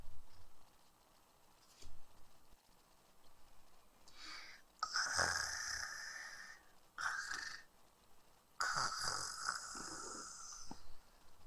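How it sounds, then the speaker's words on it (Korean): Snoring from a sleeping dog after a snack, a few slow, drawn-out nasal snores with gaps of quiet breathing between them, close and fairly soft. "간식을 먹고 배부른 원두가 코를 골며 자고 있네요"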